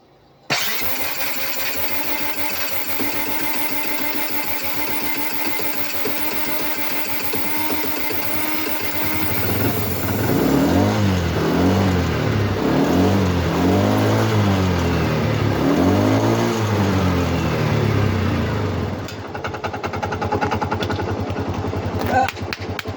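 A Honda 125 motorcycle engine cranks with a booster attached, stumbles at first, then catches and revs repeatedly in loud rising and falling bursts before settling back down near the end.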